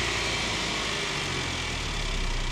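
A GDI car engine, treated with intake valve cleaner, idles with a steady low hum and faint mechanical rattle, constant and close, with no other sounds.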